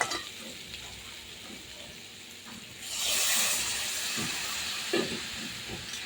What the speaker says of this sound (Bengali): আমি কিন্তু একসঙ্গে ফোড়ন দিয়ে ওই তেলেই ভাজা করছি